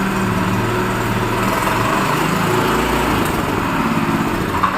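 A 7 hp Fortune gear-driven power weeder engine runs steadily and loudly up close, a constant buzzing drone with no pauses or speech.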